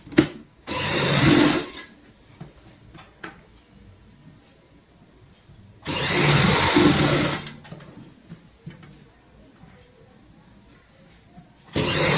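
A sewing machine stitches along a folded fabric strip while an undershirt is being made, running in two loud, steady bursts of about a second and a half each, separated by quiet handling of the cloth.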